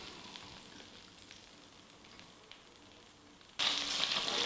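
Flounder frying in melted butter in a pan, a low steady sizzle that jumps abruptly louder and brighter near the end as the fish drops in, with no voices.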